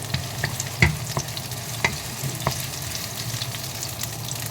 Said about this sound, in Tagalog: So lagay ko na yung aking sibuyas. Haluin muna natin.